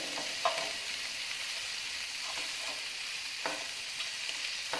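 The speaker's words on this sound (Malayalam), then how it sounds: "എല്ലാ ചിക്കനും നമ്മൾ ഇതുപോലെ ഫ്രൈ ചെയ്തിട്ട് നമുക്കൊരു ബൗളിലേക്ക് മാറ്റാം" Chicken pieces fry in butter in a pan for mandi, a steady close hiss of sizzling fat with a few soft clicks and scrapes as the pieces are turned.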